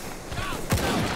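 Gunfire in the video game Battlefield 1, a sharp burst near the middle over a busy game soundscape, with faint voices mixed in.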